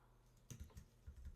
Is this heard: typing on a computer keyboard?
yes